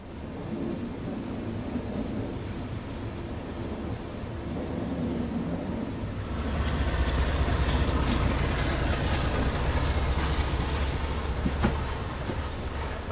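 A Jaipur–Delhi double decker train rolls along the line, a steady low rumble that swells louder and heavier about halfway through, with rattling carriage noise and a brief sharp clank near the end.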